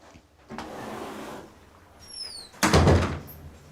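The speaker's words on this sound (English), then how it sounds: "Can you close the door?" A door is drawn shut indoors, a soft creak and slide followed by a firm, close thud as it closes, with a brief high squeak just before the final knock.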